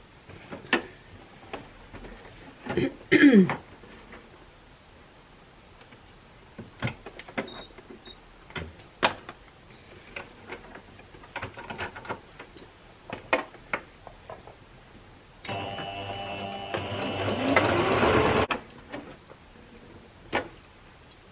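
A sewing machine with a buttonhole foot stitches a buttonhole, a steady mechanical whirring burst of about three seconds following scattered quiet clicks and handling taps.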